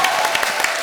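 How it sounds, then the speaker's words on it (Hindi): A brief burst of loud audience applause at a televised comedy show, dense clapping from a large crowd heard up close. "जोरदार तालियां"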